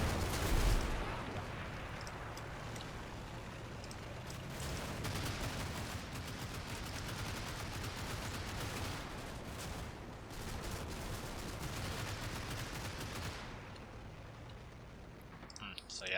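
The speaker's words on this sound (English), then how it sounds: "That's probably a Mortar round." Dense crackling gunfire and explosions from a war video game, including a mortar round impact, a continuous loud barrage with clicking bursts throughout, and a voice talking over it.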